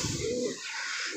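Pigeons coo in a short, close, steady murmur of soft throaty calls, with no talking over them.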